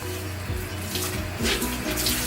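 Water runs steadily from a tap while a makeup sponge is washed with soap, splashing continuously with a soft, wet hiss and occasional squelching, close by with no talking.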